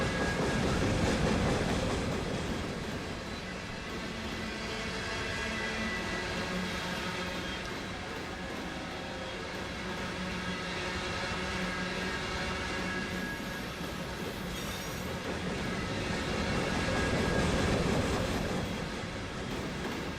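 Simulated freight train from Run 8 Train Simulator rolling on track during a Tehachapi climb, a steady rumbling roar with faint rhythmic clickety-clack and slight swells in loudness, heard alone for about twenty seconds.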